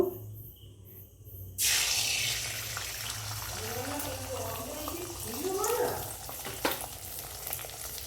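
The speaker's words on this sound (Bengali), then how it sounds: "এবার এখানে আমি কড়াতে তেল দিয়ে দিয়েছি, দিয়ে এবার ডিমটাকে আমি ভেজে নেব।" Eggs frying in oil in a kadai, a steady broadband sizzle that jumps up abruptly and then crackles on, loud and close, with a voice talking over it.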